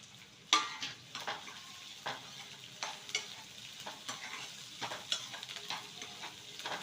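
Okra hits sautéed onions in a pan for okra kadhi and fries with a soft steady sizzle, broken by repeated scraping stirs and light utensil clicks against the pan.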